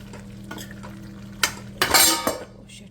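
Potato, cauliflower and pea curry cooking in a pot with no garlic or onion, heard as a few sharp metal utensil clinks and scraping stirs against the pot over a low steady hum, close and moderately loud.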